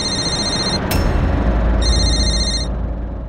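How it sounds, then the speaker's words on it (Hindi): A telephone rings in two electronic bursts with a brief pause between, loud and close over a low background hum in a Hindi TV drama scene. "किसका फोन आ रहा है?"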